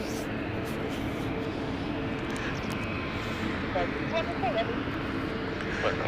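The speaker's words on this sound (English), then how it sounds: "The Rome flight is now taxiing and they are going to be heading out as well." A passenger jet taxis at London City Airport, its engines a steady low hum and whine throughout, moderately distant, with a voice talking faintly over it.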